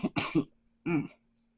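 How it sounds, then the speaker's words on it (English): A short burst of coughing, three quick hacks followed by a single rougher cough after a pause, close and fairly quiet. "I have a cough."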